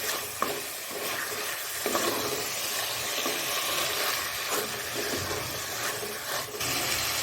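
Chicken handi being stirred in a pot after coriander powder and cumin powder go in, a steady scraping and mixing with a low sizzle of frying running throughout, close and continuous with occasional louder knocks.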